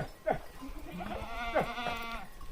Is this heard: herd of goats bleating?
yes